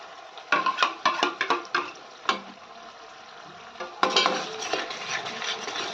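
Onions and capsicum cooking in a pan for pav bhaji as tomato puree is added and stirred in: sharp clinks of a spoon against the pan, then a softer sizzling, wet stirring texture, with no talking.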